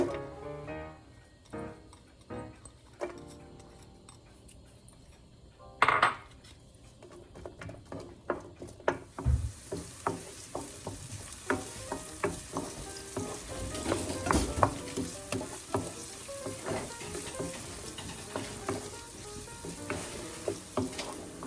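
Onion fries in oil in a pan with a steady crackling sizzle, up close, and grows busier and louder as stirring and scraping break in partway through.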